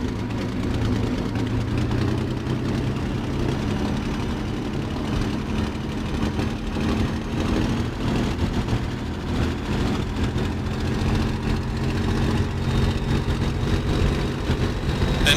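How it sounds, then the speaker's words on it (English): Steady droning piston engine of a Bf 109G-6 fighter in Microsoft Flight Simulator, running rough at Duxford, a continuous loud low hum with faint wavering texture and no talk. "Engine's not sounding good,"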